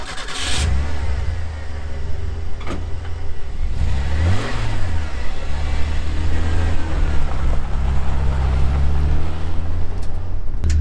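A 1990 Ford F-150 base model Custom pickup drives along with a loud, steady low engine drone and road rumble, rising in pitch as it accelerates midway, with no talking.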